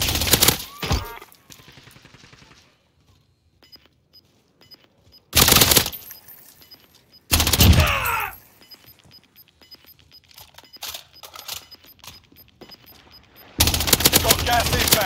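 Gunfire in a first-person shooter game: loud bursts of automatic fire come in separated volleys, with quieter single shots and scattered clicks between them, close and harsh.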